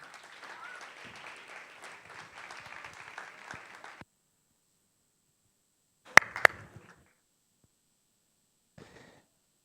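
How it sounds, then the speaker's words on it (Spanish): Brief audience applause for a marine conservation speaker at a public talk, a few seconds of soft clapping that stops abruptly, followed by quiet with a couple of sharp knocks. "Así que un súper aplauso para Alex Abello."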